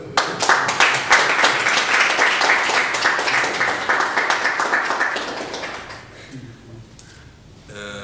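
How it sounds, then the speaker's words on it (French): Applause from an audience at a memorial anniversary gathering, loud dense clapping that holds steady for several seconds and then thins out and fades near the end. "nous devons applaudir pour Dieu et pour nos vrais parents"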